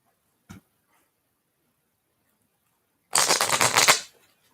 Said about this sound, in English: I'll get a good shuffle on the cards while you ask your question.